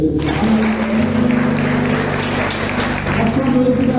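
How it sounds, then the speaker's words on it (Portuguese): A church congregation claps steadily throughout a worship service, a dense patter of hands under sustained organ-like tones and a voice. "Aplaude o Senhor Jesus."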